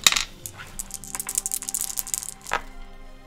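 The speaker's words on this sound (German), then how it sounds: "würfel doch mal Initiative" Dice are rolled for initiative during a Shadowrun 6 pen-and-paper session: a quick burst of hard plastic clatter and tumbling clicks on a table, settling into a final rattle and knock, close and fairly quiet.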